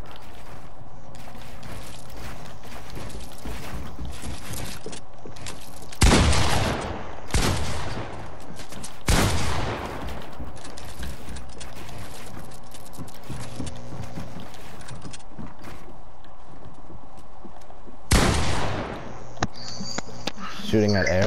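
Loud bursts of video game gunfire fired into the air, several sharp volleys spread across a long stretch of steady background noise while a person talks throughout.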